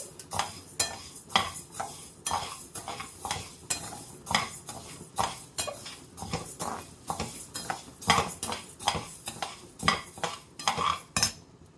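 Urad dal being dry-roasted in a pan for Tanjore-style dosai milagai podi, with a steady run of scraping, stirring and metallic clinks from a spoon against the pan, fairly close and without talk.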